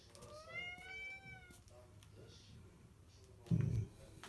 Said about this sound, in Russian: какая наглая кошка